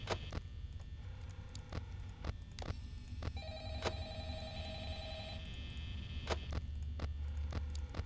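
A telephone rings in the horror video game Five Nights at Freddy's, a steady repeating ring that carries on under sharp clicks and low rumbling background sound.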